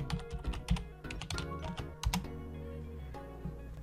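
Keys on a computer keyboard are tapped out in quick, uneven bursts to enter a password at a login, clicks close and crisp with short pauses between clusters.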